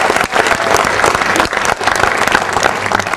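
Loud, sustained applause from a church congregation at the wedding of Don Pierrot and Mariana, dense clapping running throughout with brief dips, close and filling the room.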